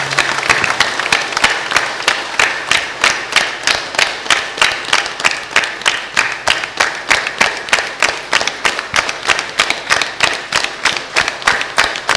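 Audience at a Bible convention clapping hands in welcome, a steady, rhythmic unison beat of sharp claps repeating evenly for the whole stretch, loud and close, with no talk over it.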